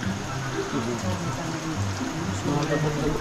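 Spring water runs steadily near the microphone on a rural tilapia farm. The flow gives an even, close hiss and trickle with a few faint voices underneath.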